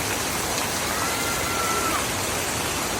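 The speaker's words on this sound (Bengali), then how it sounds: "অঝোর ধারে বৃষ্টি নামতেছে, অঝোর ধারে বৃষ্টি" Heavy rain pours down in a dense, steady roar that fills the whole scene, constant and loud with no breaks, flooding a road.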